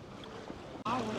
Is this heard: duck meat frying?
no